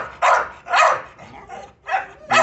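A dog barks repeatedly in short, loud bursts with brief pauses between, close by and alone.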